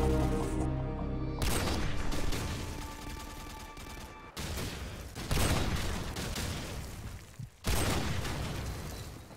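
Rapid automatic fire from the Beretta .50 cal in Call of Duty 4: Modern Warfare, loud sustained bursts of gunfire with brief pauses between strings of shots.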